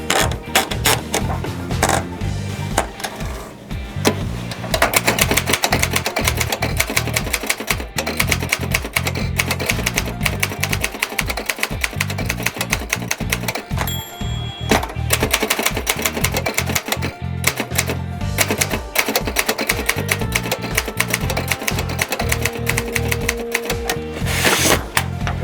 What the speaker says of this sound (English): it sounds the way you would want a typewriter to sound